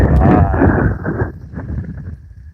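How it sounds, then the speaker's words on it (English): Loud, rumbling wind buffeting the microphone, heavy low-frequency roar that eases slightly after the first second, with no voices. "very windy right now."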